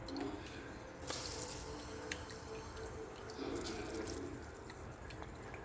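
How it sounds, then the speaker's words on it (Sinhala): Meat stock poured into rice for a Sri Lankan Arabic-style wedding rice dish, a soft continuous liquid trickle and splash heard close up, steady throughout with a few brief clinks. "මේ දාන්නේ මස් වතුර."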